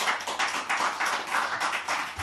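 A crowd at a Buddhist monk's talk claps together. The applause comes as a fairly close, steady patter of many hands in uneven waves, with no talking over it.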